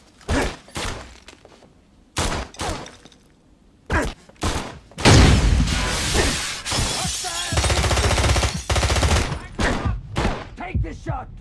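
Gunfire from the James Bond 007: Blood Stone video game, with sharp, loud single shots and bursts, then a longer sustained volley and more scattered shots, with some voices mixed in.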